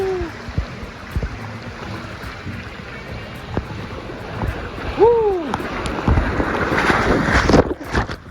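Outdoor leisure pool at a Disney resort with a slide, a person rushing down it and splashing in amid wind and water noise, with brief voices nearby and a louder surge of water toward the end.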